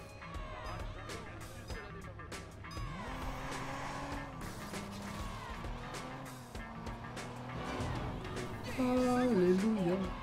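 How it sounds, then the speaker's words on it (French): Car race in the video game Watch Dogs: engines rise and fall in pitch with tire squeals and skids, moderately loud and continuous, with someone talking over the action. "Ah non, faut faire une course de voiture."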